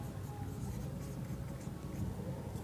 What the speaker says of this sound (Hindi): चलो मैं दोनों लिख देता हूँ यहाँ पे